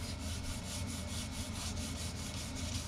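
Sandpaper rubbing steadily over a polyurethane top coat on a Warmoth Jazzmaster guitar body, leveling high spots in a continuous, even scratchy back-and-forth with a faint repeating rhythm, close and alone.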